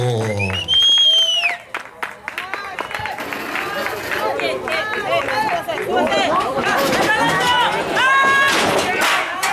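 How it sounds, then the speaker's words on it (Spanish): Crowd at a wrestling event in Mexico claps and cheers loudly and continuously, with an announcer shouting over the applause and occasional thuds. "¡Siga el aplauso!"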